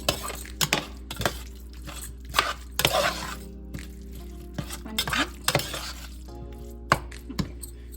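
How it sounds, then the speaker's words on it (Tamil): Tomatoes sauté in a pan for Chennai-style mutton biryani: a soft sizzle under repeated stirring scrapes and clinks of a utensil against the pan, close and with no talking. "இது தக்காளி வந்து ஒரு 2 மினிட்ஸ் கிட்ட வதங்கட்டும்."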